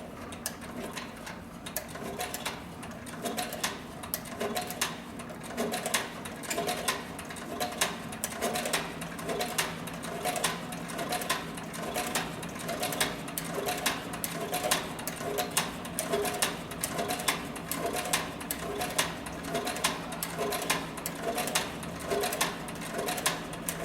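Free-arm saddlery sewing machine steadily stitching through four layers of heavy saddle skirting leather, a continuous rapid mechanical clatter with a regular needle rhythm, close and fairly loud, no voices.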